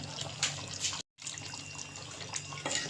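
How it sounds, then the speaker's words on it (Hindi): Water pours and trickles into a mixer jar, a soft continuous splashing close by with a brief gap partway through. "जो मिक्सी के अंदर लगा रह जाए, आप थोड़ा सा पानी डाल के"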